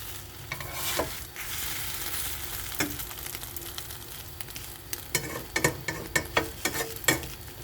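Korean egg roll, gyeran-mari, frying in a pan with the heat left on until slightly burnt, a soft steady sizzle broken by close scraping and tapping from rolling it over, busier toward the end.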